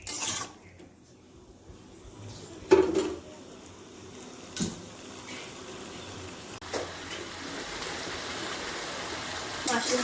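Mushrooms frying in oil in a pan keep up a steady, close hiss, with a few sharp clinks and scrapes of a utensil against the pan.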